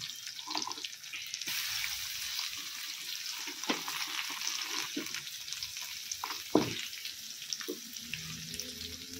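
Onion and crushed garlic sizzle steadily in a pan, with occasional scraping and clinks from stirring at close range, fairly quiet and without talk.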